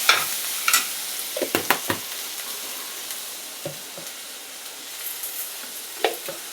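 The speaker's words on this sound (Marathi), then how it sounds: "भाजी परतून द्यायची." Bhogi vegetable curry with sesame seeds being stir-fried in a pan, with scattered scraping and clanking strokes of a spatula over a soft, steady sizzle, the clatter bunching up early and again near the end.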